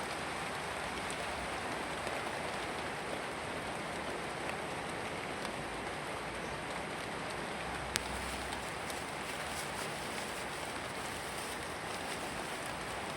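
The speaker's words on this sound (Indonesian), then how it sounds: "Hujan ya gerimis ya" Light drizzle patters steadily on surfaces outdoors near a catfish pond, a soft, even hiss throughout with one brief sharp tick partway through and no voices.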